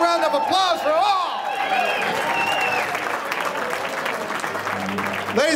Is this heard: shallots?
no